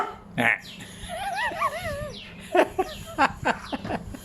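A pet dog giving a short bout of barking and wavering, whining yelps up close, followed by scattered softer sounds and background noise.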